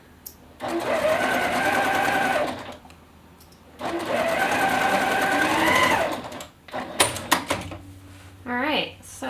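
A sewing machine stitches a gusset seam in two sustained whirring runs separated by a pause, followed by a few short clicks and handling sounds.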